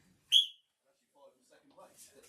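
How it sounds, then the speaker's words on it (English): Single short, sharp referee whistle blast signalling the start of an event at a strongman competition, followed by quiet scattered voices and ambient crowd sounds. "On the whistle."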